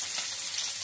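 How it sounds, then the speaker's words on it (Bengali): Boiled baby potatoes frying in hot mustard oil in a kadai, a dense, even hiss of sizzling, close by and moderately loud, with no voices over it. "এবারে এই তেলের মধ্যে সেদ্ধ করে নেওয়া আলুগুলো একটু ভেজে নেব।"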